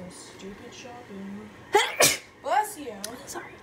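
A sharp, loud human sneeze bursts out suddenly in the middle, followed by a second softer one, amid quiet talking before and after.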